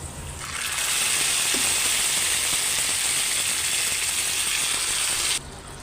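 Beef tripe sizzling steadily in a hot pan with browned fried onions, potatoes about to go in; a continuous broad hiss starts after a moment, holds evenly and drops off near the end, no talking.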